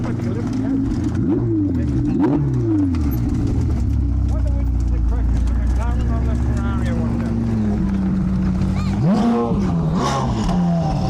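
A Ferrari 488 Spider and a McLaren 720S pull away from a 90s car meet with loud, close engine roars and rising revs that climb and fall across several gear changes, while people talk nearby.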